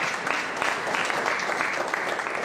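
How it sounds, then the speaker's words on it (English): A church congregation claps during a worship service, producing steady, dense applause that stays loud and even from start to finish. "if you're clapping, you know what you got to do. You got to clap better than that."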